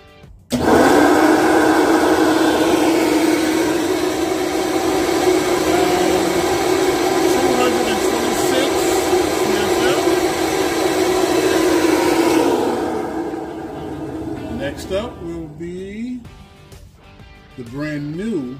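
A flow bench roaring steadily as it pulls air through a used Edelbrock Air Gap intake manifold for a 351 Windsor, loud and continuous for about twelve seconds before winding down, with a voice talking near the end.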